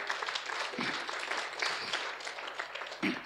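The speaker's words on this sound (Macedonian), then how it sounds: "Така да еден силен аплауз за нив, за ренџерите." A church audience applauds the rangers with steady, dense clapping from many hands that holds evenly for a few seconds at moderate loudness in a hall.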